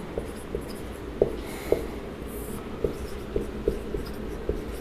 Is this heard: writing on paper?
yes